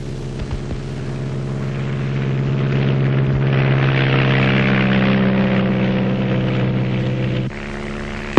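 Two small propeller planes drone loudly and steadily over rainforest, rising slightly in intensity before dropping off near the end; no talking.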